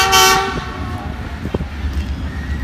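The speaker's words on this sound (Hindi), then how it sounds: "इतना रेलगाड़ी इतना हॉर्न मार रहा है लेकिन लोग समझते ही नहीं कि रेल आ रहा है।" An approaching train sounds a short, loud horn blast at the start, then its rumble and scattered clanks continue nearby along the tracks.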